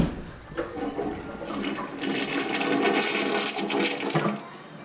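A clogged toilet flushes in a rushing, gurgling swirl of water that stays loud and close for several seconds with no talk.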